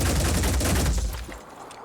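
A rapid burst of gunfire rattles from a squad shooting in the Phoenix Point video game, with dense overlapping shots for about a second before tapering into a fading echo.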